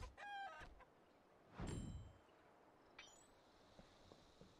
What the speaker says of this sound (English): Again, chicken, how are you getting up here on the roof?